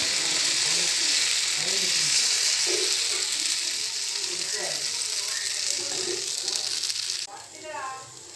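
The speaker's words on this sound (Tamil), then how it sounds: "தோசைக்கல் வச்சு தோசைக்கல் காஞ்சிருச்சு. தோசை ஊற்றிடுவோம்." Dosa batter poured onto a hot griddle sizzles and hisses loudly and steadily up close, fading near the end, while someone talks over it.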